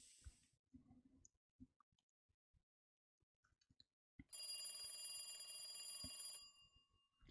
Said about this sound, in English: The phone rang for over 3 minutes.